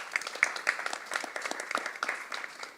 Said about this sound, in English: give the commission a big round of applause for engaging young people